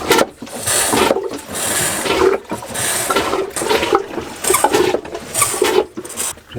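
A freshly repaired toilet aboard a cruising sailboat being flushed at night, loud close gushing and pumping water in repeated surges separated by brief pauses, with no talking.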